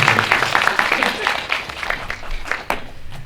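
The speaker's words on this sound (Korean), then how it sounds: "큰 박수 부탁드립니다" An audience at a film-release talk event applauds, a dense wash of many hands clapping that fades over a few seconds while people talk over it.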